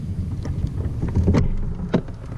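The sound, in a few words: paddling a fishing kayak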